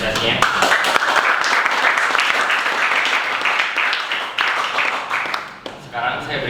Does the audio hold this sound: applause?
yes